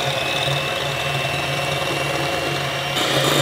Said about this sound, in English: And now let's beat the egg whites until stiff peaks form. It takes about 3 to 4 minutes with your electric mixer.